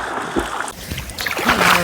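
Water splashes and sloshes into a villa swimming pool in the Munnar hills of Kerala, with short bursts of splashing up close and a voice speaking briefly.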